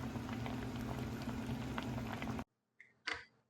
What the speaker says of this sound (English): As you see, it's boiling pretty good and everything.